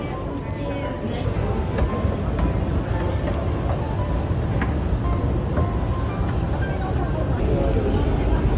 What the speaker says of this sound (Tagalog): Medyo busy ang MRT station dito kayon mga ka-OFW.